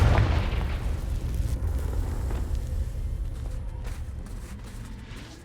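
A Confringo fire spell explodes in Hogwarts Legacy as one deep, booming blast. Its heavy rumble swells up front and then fades slowly over several seconds, with no voices.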